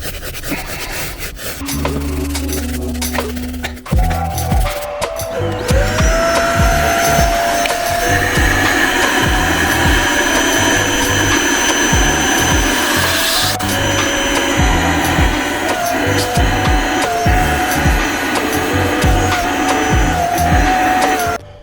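A Vax vacuum cleaner runs loudly and steadily close by, its motor whine holding a high tone while scraping and rubbing noises continue over it.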